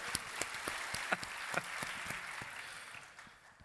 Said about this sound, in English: Round of applause for the tech guy.